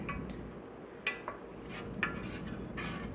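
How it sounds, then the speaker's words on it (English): A spoon stirs sugar into a pitcher of strawberry sweet tea, making faint, sparse clinks against the container over a quiet background. "And now he's going to stir it"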